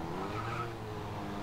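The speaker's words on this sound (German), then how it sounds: "Der Wagen dreht sich auf der Stelle einfach." A car in the Grid Autosport racing game skids and spins on grass, a loud continuous tire squeal over engine drone lasting about a second and a half, with no voices.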